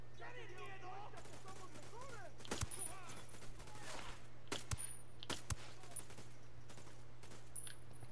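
Assault rifle gunfire set to single-shot mode in the video game Ghost Recon Wildlands, during a base takeover: a few separate sharp shots spaced several seconds apart over a steady hum, with voices talking early on.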